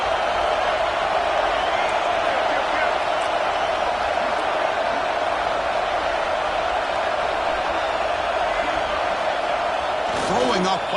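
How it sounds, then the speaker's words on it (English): A football stadium crowd cheers early in a game, a dense, constant roar that holds steady throughout, with a commentator talking over it and a brief sharper noise near the end. "Listen to the crowd energy here in the early going."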